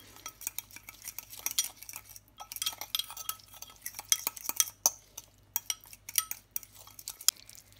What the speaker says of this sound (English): I mix it all together.